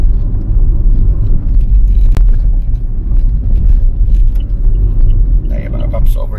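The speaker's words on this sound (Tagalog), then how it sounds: "akala mo merong damage yung gulong mo dahil nga po sa sounds na pinoproduce niya, dahil na rin syempre sa quality ng kalsada" Car tires rumbling over a rough, poor-quality stretch of the Star Tollway near Lipa, Batangas, a loud continuous low road roar with one sharp knock midway while someone talks over it.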